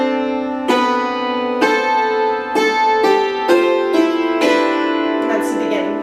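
Solo piano plays two measures from Bach's Jesu, Joy of Man's Desiring, a steady line of rich sustained notes and chords struck one after another, loud and close with no talking.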